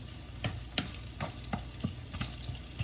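Onions frying in a pan for spicy chicken pork adobo, with a steady close sizzle broken by regular stirring scrapes about every third of a second; no one speaks.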